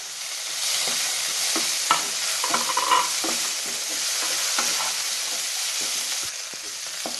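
Boiled chickpeas being stirred with salt in a frying pan, a soft continuous sizzle broken by repeated scraping and clinking of a spoon against the pan, close and with no talking.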